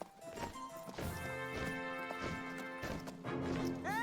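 Horse hooves clip-clopping in the King's Quest video game, a steady rhythmic trot under tonal game music, with a brief rising synth sweep near the end.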